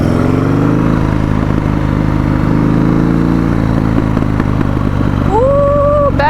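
Custom Buell S1 Lightning motorcycle idling loud and close with an uneven, lumpy exhaust and scattered sharp pops of backfire, no voices.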